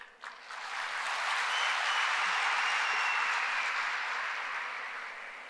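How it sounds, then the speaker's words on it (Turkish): A packed hall gives a standing ovation, dense sustained applause from a large crowd that swells in after a moment and holds steady throughout. "Hınca hınç dolu olan salonda herkes Hacer Çınar'ı ayakta alkışlıyordu"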